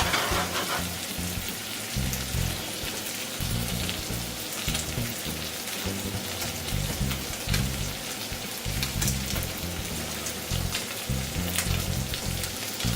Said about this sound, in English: let the eggs cook for just a few seconds